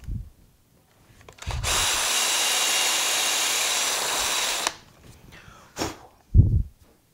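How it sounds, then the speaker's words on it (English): A power drill reams out an old hole, whirring steadily for about three seconds, loud and close, followed by a few brief scrapes and knocks. "I'm just going to go and kind of ream it out with this drill."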